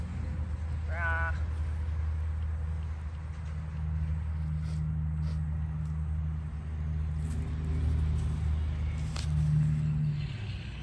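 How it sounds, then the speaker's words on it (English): Morning road traffic passes beyond a rural homestead garden as a steady, distant low hum with gentle swells of passing vehicles. "There's a ton of traffic out here in the mornings."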